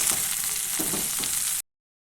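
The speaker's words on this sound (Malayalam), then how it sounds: "അപ്പം ഞാനിങ്ങനെ എണ്ണയിൽ വഴറ്റുന്നുകൊണ്ടാണ് കഞ്ഞിവെള്ളം ഒഴിച്ച് കൊടുക്കുന്നത്" Drumstick leaves sautéing in oil in a pan crackle and sizzle up close for about a second and a half before cutting to silence.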